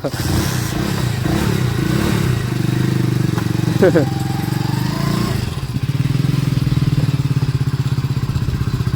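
A motorcycle engine runs close by, its steady low drone with clatter and brief revving pulling up nearby, while people talk over it.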